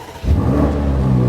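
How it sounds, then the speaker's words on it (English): A BMW M8 in Sport Plus mode with its exhaust valves open revs up sharply, the engine note jumping from quiet to a loud, close, sustained growl within a moment. "when you go into Sport Plus, one important thing, the exhaust opens"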